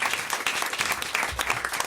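An audience claps steadily and densely through a French radio comedy show, with full, even applause and no voices rising above it.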